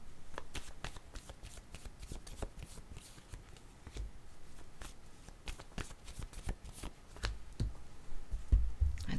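Word cards are shuffled by hand, giving a soft, rapid series of riffling clicks and snaps that repeat in bursts, quiet and close, with no voices.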